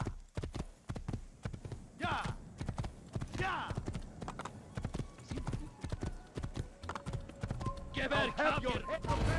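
Horse hooves clip-clop steadily in Assassin's Creed, a rider's own small horse trotting along, with game sounds and brief voices mixed in around the rhythmic steps.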